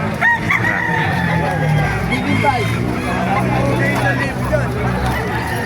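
Roosters crow and chickens cluck amid a busy crowd at a chicken market in Calumpit, Bulacan, with chatter, price calls and voices overlapping throughout the lively, noisy scene.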